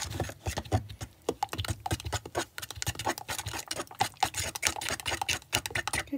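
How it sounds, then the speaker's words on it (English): A fork beats vegan banana bread batter in a bowl with rapid, continuous close clicking and tapping, heard alone. "Gonna go ahead and mix this up here"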